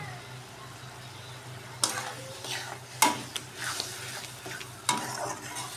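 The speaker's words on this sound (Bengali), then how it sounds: "এবারে যে দিয়ে দিচ্ছি লঙ্কার গুঁড়ো টুড়োগুলো, দিয়ে কষতে থাকি।" Chili powder and spices fry in a pan over a low steady sizzle, broken by several sharp scraping stirs and clinks of a spatula against the metal.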